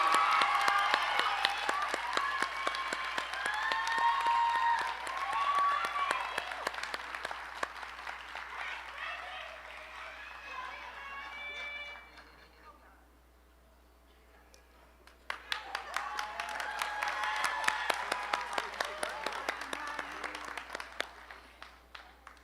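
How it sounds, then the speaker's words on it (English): Graduation audience at the 2022 Democracy Prep Charter High School ceremony claps for a student, steady applause with a few cheers that fades into a brief lull before a second burst of clapping rises again. "please clap it up for Amani Reynolds"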